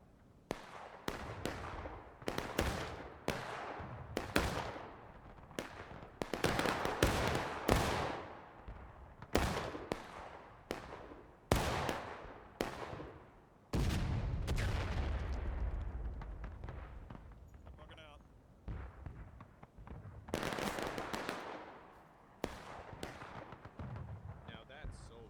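Musket volleys in a Civil War era multiplayer battle at Concord, many sharp cracks and ragged volleys popping near and far with rolling echoes, irregular over about twenty-five seconds, with occasional voices underneath.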